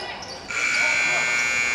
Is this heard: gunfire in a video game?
no